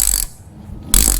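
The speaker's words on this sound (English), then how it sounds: "we'll take our spark plug socket here," A ratchet with a spark plug socket loosens the spark plug on a John Deere Z365R mower, two short bursts of close, crisp clicking separated by a brief pause.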